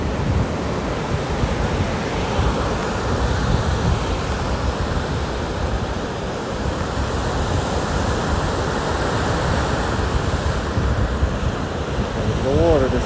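Waves wash onto a shore in a steady, loud broadband rush that swells and recedes over several seconds, with wind buffeting the microphone throughout and no talking.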